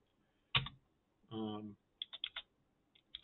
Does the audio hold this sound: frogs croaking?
no